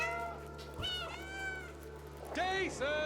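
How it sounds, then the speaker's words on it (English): Stray cat meows from the video game Stray, a few clear drawn-out calls in sequence, the last pair louder and higher, over a low steady hum with no talk. "There's even a dedicated meow button to call out to our friends with"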